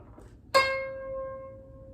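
A single string, pressed down before plucking, rings out clearly, a bright attack followed by a sustained, slowly fading tone, close and alone against quiet background hum.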